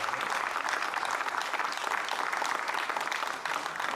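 Steady, dense applause from an audience at a poetry contest in Isili, Sardinia, holding at an even level throughout with no talk on top.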